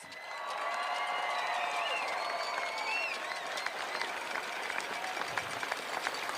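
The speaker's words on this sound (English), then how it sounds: "let's give everybody up here and everyone out there a big round of applause" A large crowd applauds and cheers at a Kitchener Rangers Memorial Cup pep rally, dense sustained clapping with whistles and shouts, heard at some distance.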